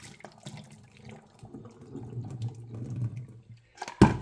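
Water from a pot of boiled eggs pours out as it is drained into a sink, a steady low splashing that builds over a few seconds before a sharper clatter at the end.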